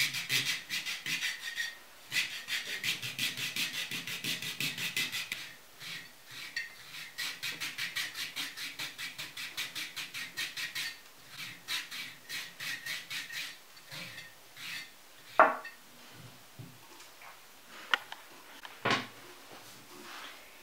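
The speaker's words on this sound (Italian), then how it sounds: "andiamo a passarli con una sorta di lima per talloni. Ora che sono belli morbidi viene via tutto meglio" A heel file rasps over softened feet during a pedicure, with repeated close rubbing strokes in an uneven rhythm and a few sharper knocks toward the end, with no voices.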